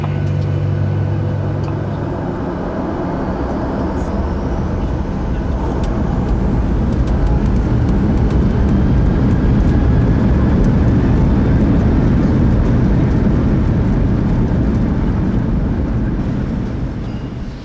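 Inside an airliner cabin before takeoff, a loud, steady roar of engines and air handling fills the space. A low hum fades early on and the rumble swells slightly midway.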